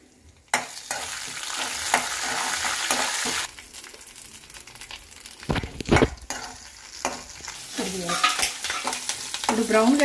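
Green chillies fry and get stirred in a pan for foxtail millet katti pongali, loud sizzling with scraping stir strokes, then quieter crackle and clatter.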